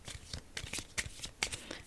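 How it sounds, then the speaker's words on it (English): A deck of playing cards being shuffled up close, a run of crisp riffling bursts and soft slaps repeating in quick, uneven succession with no talking. "I'm going to shuffle up the cards here."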